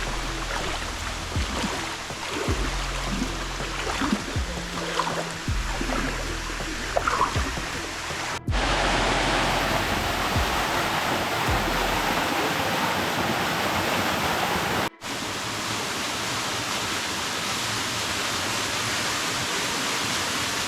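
Bua Thong sticky waterfall in Chiang Mai, Thailand sends up a loud, continuous rush of falling water up close, with a few knocks and handling bumps early on.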